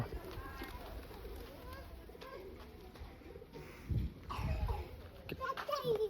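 Pigeons coo softly, then wings flap in a few sudden bursts as children release the birds to fly, with children's voices nearby.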